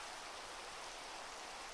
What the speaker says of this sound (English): I'm building in the rain